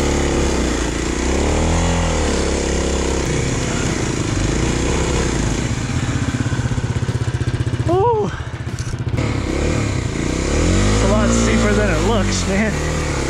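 Kawasaki KLX250 dual-sport motorcycle climbing steep single track at about 5,000 feet elevation, its engine droning loud and close throughout with rising and falling revs, while a rider talks over it.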